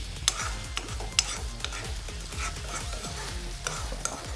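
Chicken liver chettinad is stirred in a hot pan, a moderate sizzle under a regular series of spatula scrapes against the metal, with a few sharper knocks.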